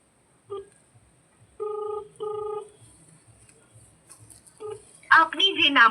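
A phone call is placed and rings out on the line: two long ringback tones, loud and steady, then a recorded voice speaks near the end.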